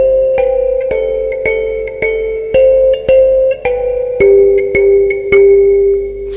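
Mbira dzavadzimu plucked in a simple repeating four-note pattern, bright metallic tines ringing with sustained overtones, steady evenly spaced plucks played close and alone.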